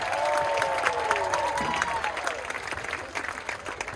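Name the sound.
audience applause at marching band tailgate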